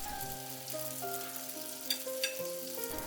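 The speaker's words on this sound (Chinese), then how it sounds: "再按先后顺序直接下锅炸，油温烧至6成热，转中小火下锅" Chinese breakfast-style fried dough cakes (youbing) deep-fry in oil heated to about sixty percent on medium-low flame, giving a quiet, even sizzle and crackle with a few brighter pops toward the end.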